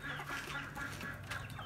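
Black Aseel hens cluck softly in a pen, a faint cluster of short murmuring clucks over a low background hum.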